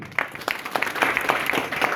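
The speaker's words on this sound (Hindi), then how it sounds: "एक बार जोरदार ताली राहुल सर के लिए।" An audience at a network marketing meeting in Agra breaks into applause for Rahul sir, a dense, steady patter of clapping sustained throughout.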